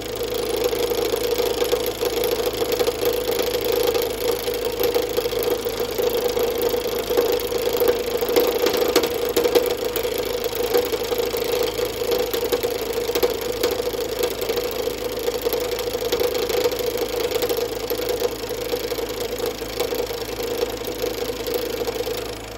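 A Sorby RS 3000 hollowing cutter with a dull edge working into coarse big leaf maple on a spinning lathe: a continuous steady whirring hum with a constant buzzing tone and faint scraping, close and unbroken.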